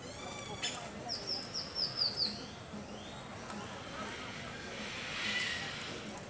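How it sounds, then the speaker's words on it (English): Parrots squawk and fight, a run of sharp, repeated chirping calls clustered in the first half, then sparser bird calls over a steady background hiss, with faint voices at times. "It's a big boxing match with parrots."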